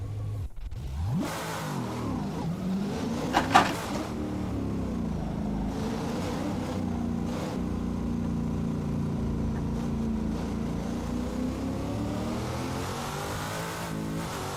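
Modified car in the Assetto Corsa racing game, its engine revving up and sweeping through the gears in rising and falling pitch, then holding a steady droning pull, loud and close with no talk over it.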